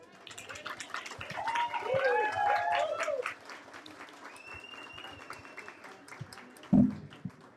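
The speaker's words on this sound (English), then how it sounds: "Let's give them a round of applause." Light audience applause rises and fades while voices talk and call out over it, then a sharp knock near the end.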